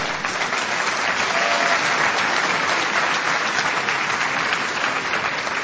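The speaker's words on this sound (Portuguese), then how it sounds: "Pode dar uma aplauso ao Senhor." Steady, dense applause from a large church congregation, loud and unbroken throughout with no voices rising above it.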